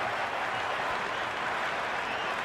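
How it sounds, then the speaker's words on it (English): Dense, roaring cheers and applause from a packed cricket stadium crowd at an IPL final between RCB and GT, a continuous wall of sound. "The crowd is electric right now."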